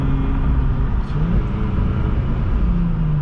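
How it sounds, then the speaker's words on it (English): A 2013 Hyundai Genesis 3.8 with a transmission fault runs through its gears, its engine giving a steady, loud low rumble with small pitch shifts as each gear changes. "Shifting through all the gears. 6, 5, 4, 3,"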